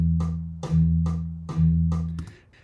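A metal rhythm guitar sounds sustained half-note chords in 4/4, three long ringing strums evenly spaced, then a brief scratchy change at the end; loud, close and alone with no voices.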